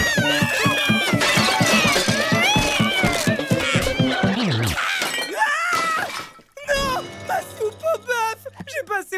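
A cat meows loudly and insistently in a run of drawn-out wails, joined by a crash of something shattering, then a voice talks briefly before short sharp cries close the scene.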